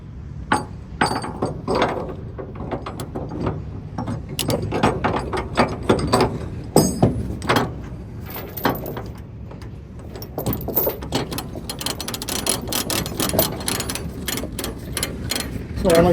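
Ratchet chain binder being cranked to tighten chains securing a wood chipper on a stepdeck trailer, giving repeated close, loud clicking ratchet strokes with metallic clinks across the whole stretch.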